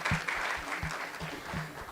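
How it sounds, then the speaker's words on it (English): An audience at a women-in-tech hackathon final applauds a team called Heartguard, with steady moderate clapping throughout and low voices murmuring beneath it. "A round of applause for Heartguard."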